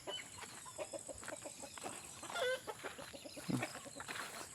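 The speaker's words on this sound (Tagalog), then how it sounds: "Sira ulong mga manok." Chickens cluck and squawk nearby in a busy farmyard chorus, with scattered calls overlapping at moderate volume.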